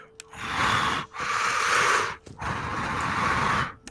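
Heavy, raspy breathing from the video game FNAF 4 Halloween Edition: three long, loud breaths, each a breathy rush separated by brief pauses.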